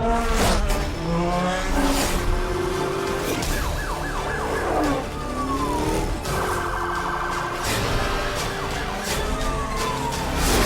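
A police Porsche 911 Targa 4S siren wails in the racing game Need for Speed: Hot Pursuit, its rising and falling tones sweeping steadily and loudly over music and game noise for the whole stretch.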